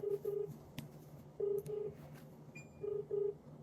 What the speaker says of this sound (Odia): ସାଙ୍ଗମାନେ ଜଗନକୁ ଫୋନ କରିବା ହେଲା।